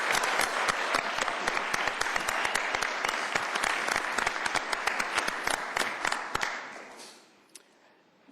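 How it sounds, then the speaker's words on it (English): An audience at a city council meeting applauds visiting guests from Bega, New South Wales, Australia: loud, dense clapping that holds steady for several seconds before tapering off and fading near the end. "Round of applause for our friends from Australia."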